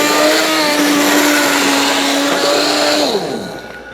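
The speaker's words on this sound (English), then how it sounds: "Okay, so the immersion blender did it, guys." An immersion blender purees hot tomatoes for thick tomato sauce. It gives a loud, steady motor whir that holds for about three seconds, then winds down as the motor slows and fades.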